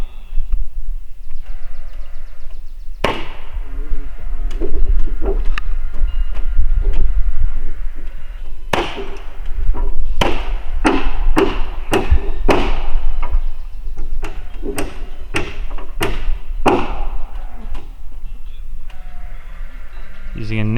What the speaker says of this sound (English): Using a nail gun that runs off of batteries.